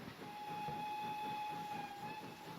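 An LMS 3F Jinty steam locomotive in Train Simulator sounds a steady, bright whistle that holds for over two seconds, with a low, rumbling engine underneath.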